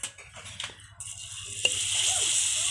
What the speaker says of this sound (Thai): พอน้ำมันร้อนแล้วก็เอาใส่คั่วลงไปเลยค่ะ